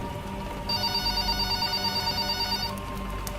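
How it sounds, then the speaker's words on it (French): A telephone bell rings steadily in a quiet room, a continuous electric trill lasting about two seconds before it stops, moderately loud with no voices. "Puis le téléphone sonne."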